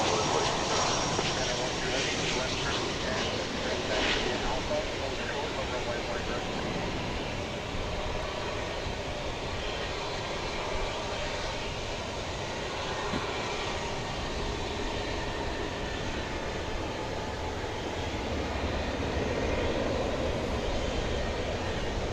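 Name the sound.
American Airlines Airbus A319 jet passing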